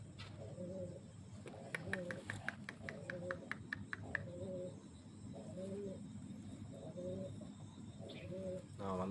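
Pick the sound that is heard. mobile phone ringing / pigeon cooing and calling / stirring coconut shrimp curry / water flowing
pigeon cooing and calling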